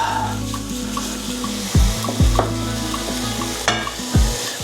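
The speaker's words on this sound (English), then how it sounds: "I'll just fry off the onions first. Add in the bacon and get that fried off." Onions and bacon frying in a pan, a loud close sizzle with a low steady hum underneath and several scraping stirs of a utensil, no talking.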